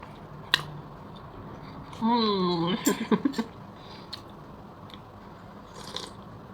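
Biting into a century egg with calamansi lime: a few soft crunching bites and wet chewing up close, with a voice speaking a drawn-out sound just before them.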